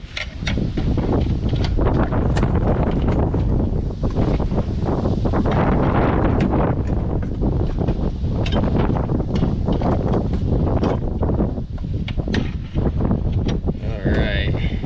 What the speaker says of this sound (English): so freaking windy.